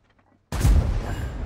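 A tank cannon fires in a video game, a sudden loud deep boom erupting after near silence and rolling into a long sustained rumble that fades slowly.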